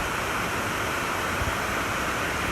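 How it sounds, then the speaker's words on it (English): Waterfalls at Gilroy Gardens theme park in California, a steady, loud, close rush of falling water with no talking. "So these waterfalls even have an attraction sign for it called Bonfonte Falls."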